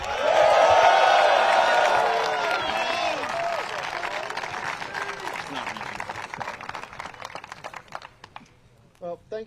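A crowd at a disc golf tour championship final applauds a third-place finisher with dense, sustained clapping that swells loud at first, then gradually thins and fades toward scattered claps.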